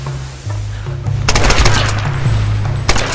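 Automatic gunfire in the Tomb Raider video game, loud rapid bursts of shots crackling over a low droning game soundtrack, with a fusillade continuing for several seconds.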